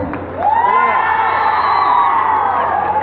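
Lively cheering and whoops from a crowd at a quiz-style stage show, rising after a brief quiet start into a loud, sustained burst of voices.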